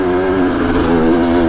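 A Yamaha DT-180 two-stroke motorcycle engine revs loud and close on a trail, a buzzing, raspy, steady high-rpm drone with no speech over it.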